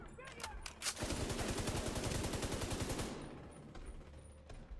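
A light machine gun in The Division 2 fires a long sustained burst of rapid, evenly spaced shots, loud and close, then stops abruptly, leaving a brief fading tail and quiet background.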